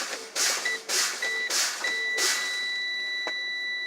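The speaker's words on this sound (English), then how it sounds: "I'm going to fan my brakes till my low air warning light and sound come on" A truck's low air pressure warning buzzer sounds during an air brake test, a loud near tone coming in repeated beeps that settle into a steady whine, with bursts of air hiss from the brakes being fanned.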